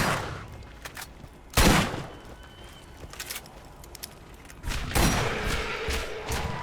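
Pistol gunfire in the video game Borderlands, with two loud sharp shot bursts standing out from a busy, clattering game mix full of rapid smaller impacts.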